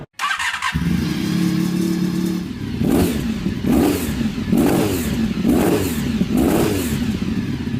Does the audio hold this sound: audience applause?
no